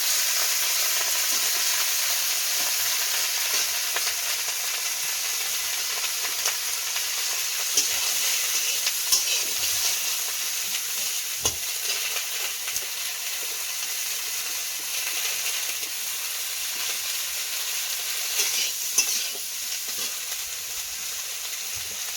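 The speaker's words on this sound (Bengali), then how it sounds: "ফুলকপিটা ভেজে নেব।" Cauliflower fries in a pan, with a continuous crackling sizzle and occasional stirring scrapes and pops through about twenty seconds.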